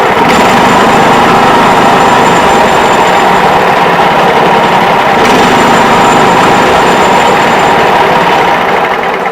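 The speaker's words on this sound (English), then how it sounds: "I mean, it's a 5 horsepower Briggs." A 5 horsepower Briggs and Stratton small engine, just back from a carburetor cleaning, runs close and loud with a steady, even drone that never changes pace.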